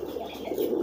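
A kept merpati kolong pigeon coos close by, one low throaty rolling call swelling slightly toward the end.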